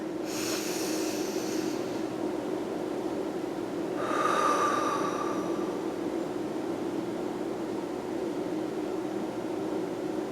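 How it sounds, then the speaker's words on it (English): Two long, airy breaths are drawn in quiet succession, the second fuller and slightly louder, heard faintly over a constant low background hiss with no talking. "take a deep breath"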